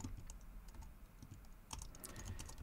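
Rapid keystrokes clatter on a computer keyboard as network commands for Cisco IOS are entered, a steady close-up patter of taps with no voices.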